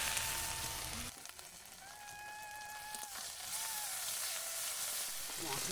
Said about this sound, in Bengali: এখন বাটা মশলাটা দিয়ে কষিয়ে নিচ্ছি।